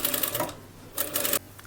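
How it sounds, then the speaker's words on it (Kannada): A sewing machine stitches a kid's frock in two short, loud bursts of rapid needle clatter separated by a brief pause. "ನಂತರ ಫುಲ್ ಕಂಟಿನ್ಯೂ ಸ್ಟಿಚ್ ಮಾಡ್ತಾ ಬನ್ನಿ"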